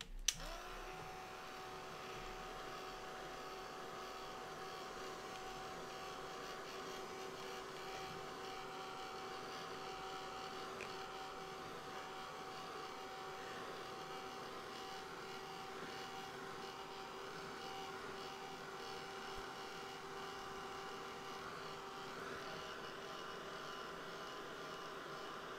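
A hair dryer blows steadily to dry watercolor paint on a painting of hair, a constant moderate whir with a faint tonal hum that runs unbroken for the whole stretch, with no talking.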